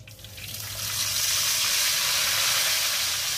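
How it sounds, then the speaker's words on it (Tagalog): A loud, building hiss of food frying in a pan rises in the first second and then holds steady, bright and close. "Habang ako po'y nagpiprito"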